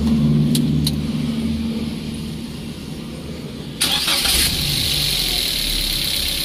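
A car engine cranks and catches near the middle, then settles into a steady mid-pitched idle after an ignition coil replacement, with a fan-like whoosh at startup and a low continuous rumble throughout; no talk.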